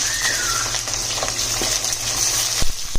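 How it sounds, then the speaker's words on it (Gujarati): Onions, ginger and tomatoes sauté in a pan, making a continuous loud sizzle with a couple of sharp utensil knocks near the end and no voices. "આ બધાને ખાલી સાંતળી લેવાના છે."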